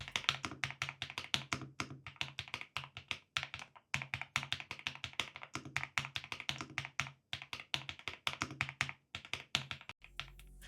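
Typing on an Epomaker TH65 gaming keyboard fitted with clear mechanical switches: quick, crisp clicky keystrokes in irregular bursts, close and alone, with brief pauses between runs.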